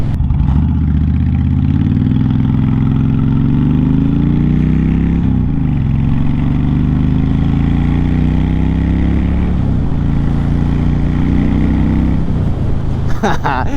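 Honda VTX1300C V-twin motorcycle engine running, a loud continuous low throb that shifts pitch a few times as it revs, heard up close throughout.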